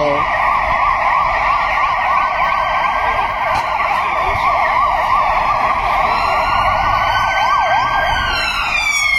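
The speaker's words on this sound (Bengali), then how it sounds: "দাঁড়ান পুলিশের গাড়িটা যাক" A loud police siren wails in a rapid rising-and-falling pattern as a police car passes close by on a street in Croatia, with traffic rumble underneath.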